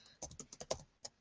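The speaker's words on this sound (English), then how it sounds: "Let me see if I can type it right here." Typing on a computer keyboard, about nine quick, faint key clicks in an irregular burst, close and isolated with no talking.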